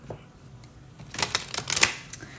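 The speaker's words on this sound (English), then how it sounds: "we're going to shuffle some tarot cards here" Tarot cards are shuffled by hand in a short flurry of crisp riffling slaps, close and fairly quiet after a near-silent start.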